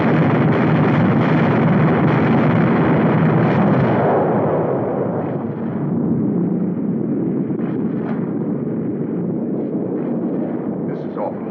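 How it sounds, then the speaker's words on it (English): Explosions from a 1952 war film depicting the bombing of San Francisco: a loud, dense roar of blasts for the first few seconds that settles into a lower, sustained rumble with scattered faint crackles. "How do you like them guys bombing San Francisco yet?"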